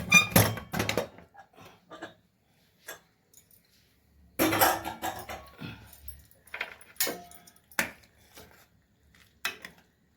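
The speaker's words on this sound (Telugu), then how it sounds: "ఇప్పుడు మూత తీసి చూద్దామండి పప్పు ఎంతవరకు ఉడికిందో." Metallic clanks and clatter of a pressure cooker lid being opened up close after cooking bottle gourd dal, coming in short bursts separated by quiet pauses.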